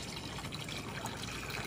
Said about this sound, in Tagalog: Haluan ko natin siya ng tubig.